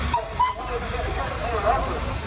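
Steady steam hiss from a nearby steam engine at a steam rally, with a couple of brief higher tones poking through the continuous rushing noise.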